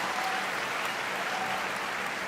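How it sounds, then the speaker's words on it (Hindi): An audience at a Hindi comic poetry gathering applauds a parody performance: a dense, steady burst of clapping from a large crowd, loud and even throughout, with no speech over it. "तालियां हो जाए साहब।"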